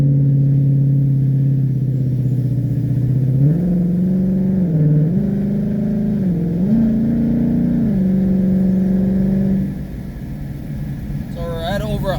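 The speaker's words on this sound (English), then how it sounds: "It picks up amazing in slush" A 2016 Ford Mustang GT V8 on Blizzak WS90 winter tires accelerates hard through slush on a snowy road, a loud steady engine drone rising in pitch through several gear shifts before easing off near the end.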